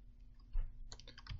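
A computer keyboard key, F11, pressed while working in the BeamNG.drive map editor: a soft thump followed by a short cluster of close, crisp plastic clicks, with no voices.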